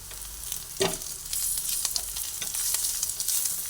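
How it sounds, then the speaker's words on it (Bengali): Onion and ginger fry together in a pan with a continuous close sizzle and a few spoon scrapes and stirs, with no voices. "আদাটাও একই সঙ্গে পেঁয়াজের সঙ্গে ভেজে নিচ্ছি"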